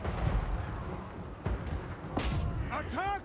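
Artillery fire from the Total War Warhammer 3 video game battle, with several booming blasts and crackling impacts scattered through a dense battle din, game voices shouting over the top.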